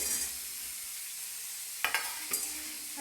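Pumpkin pieces fry in a pan with a faint, steady sizzle, broken by two short clattering scrapes of stirring near the end, with no voices heard.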